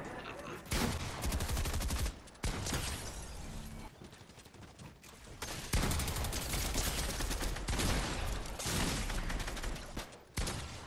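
Rapid bursts of gunfire in the video game Fortnite, Chapter 3 Season 4, loud and dense, repeating in clustered volleys with short gaps across the whole stretch.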